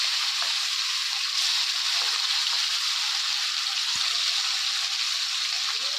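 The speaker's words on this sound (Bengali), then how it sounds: "ভাজা চলছে, ভাজা পাঙ্গাস মাছ ভাজা" Pangas fish frying in hot oil, a dense, loud, even sizzle holding steady from start to finish with a few faint clinks.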